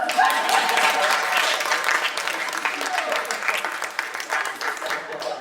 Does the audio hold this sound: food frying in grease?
no